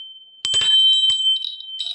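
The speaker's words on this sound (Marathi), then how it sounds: "मीडियम साईजची आहे घंटी, गरुड घंटी. आणि ही दुसरी गरुड घंटी," A medium-sized brass Garuda bell rings with a sustained bright tone, struck several times in quick succession, close and clear, with no talk over it.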